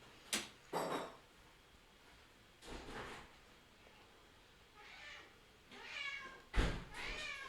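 A cat meows several times in drawn-out, rising and falling cries, mixed with a few sharp knocks and thumps like a drawer or door, spread across a quiet background.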